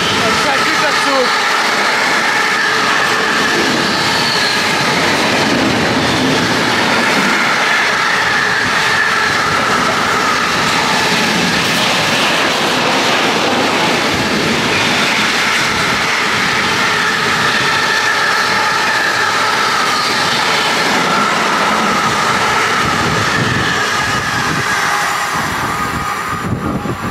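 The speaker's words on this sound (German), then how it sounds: "Das ist ein Güterzug." A long freight train rolls past a cow pasture at close range, a loud, steady rumble with rhythmic clickety-clack of wheels on rails and occasional metallic squeals, lasting throughout.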